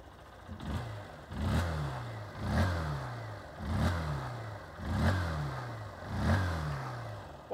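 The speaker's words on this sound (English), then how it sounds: "a very nice sounding little engine as well" A Honda CBF 125 motorcycle engine revving in repeated bursts, rising and falling about every second and a half, close by with a rattly mechanical tone.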